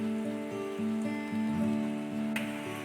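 Steady rain falls and patters on surfaces in a soft, continuous wash, with a few louder drips standing out over a low ambient hum.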